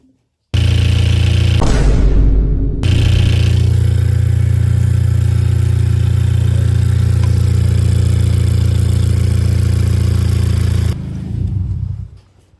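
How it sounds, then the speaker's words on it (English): A 2019 Honda Civic 1.5-litre turbo engine starts up after a coolant change and settles into a loud, steady low idle that runs for several seconds before cutting off. "I'm gonna run my car for like 30 seconds"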